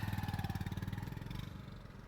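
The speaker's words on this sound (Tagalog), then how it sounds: "Motor yun na." A motorcycle engine passes close by with a rapid pulsing putter, loud at first and fading over about two seconds.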